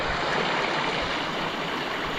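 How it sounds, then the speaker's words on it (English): Steady broadband rush of river rapids, water flowing fast and continuously close by with no talk over it. "that was the river rapids run going down here"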